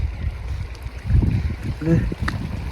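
Rainwater from a sudden short downpour gurgles and splashes amid steady low rushing noise, with a brief bubbling burst partway through.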